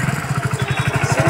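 A repaired Hero HF Deluxe BS6 motorcycle engine idles close by with a quick, steady thumping pulse and a faint mechanical clatter, heard alone.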